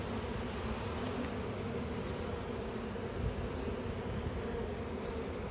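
Dense, steady buzzing of many honey bees swarming around an open hive during an inspection, loud and close, with a constant drone and no voices.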